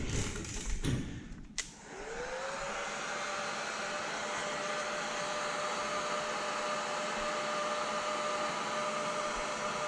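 A heat gun warms window tint film on a Mercedes-Benz window, starting with a few clunks and then settling into a steady, close, whooshing blower roar that holds level to the end, with no voices.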